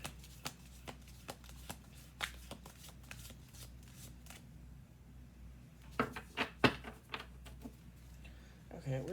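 Cards are riffled and shuffled in short bursts, a quick flurry of crisp snaps near the end, with faint background noise.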